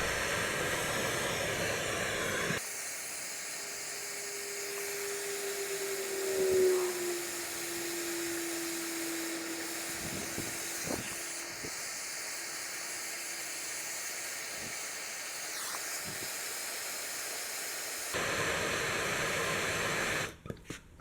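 Steady broadband roar of a torch heating a steel steering part from a Wheel Horse Model 401 garden tractor, burning off its paint; a continuous close hiss runs for about fifteen seconds with a brief tonal whistle and a few clicks.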